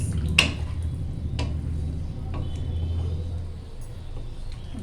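Soaked paneer being mixed with masala and vegetables in a pan for Schezwan paneer, with a few sharp spoon-on-pan clinks over a steady low rumble and soft scraping.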